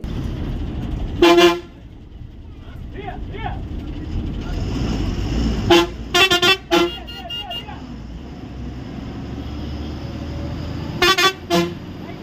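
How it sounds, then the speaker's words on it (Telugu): A Sri Vinayaka bus turns right on a road with its engine rumbling steadily, while the horn gives several short, loud toots in clusters, some early and more toward the end. "ఇట్లా ఇప్పుడు ఈ బస్సు వచ్చేసి ఇట్లా కుడివైపున వెళ్తుంది"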